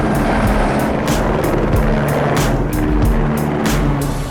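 A helicopter flies close for aerial filming over Chicago, giving a loud, steady rotor roar with a rhythmic blade chop throughout and no talking.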